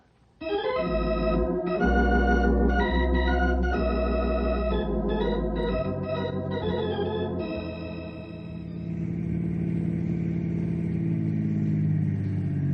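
A car engine in an old-time radio drama cranks, catches and idles, then pulls away with a steady running hum, loud and close with no voices over it.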